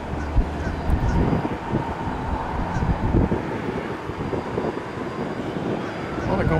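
An MD-11 airliner takes off at Tampa airport, heard as a broad, sustained jet roar from a distance, mixed with gusty wind buffeting the microphone.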